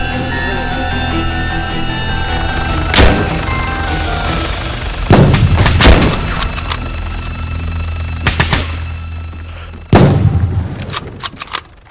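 Gunfire in the video game DayZ: several sharp, loud shots crack out at irregular intervals over a base under attack, some in quick bursts, with a steady background rumble between them.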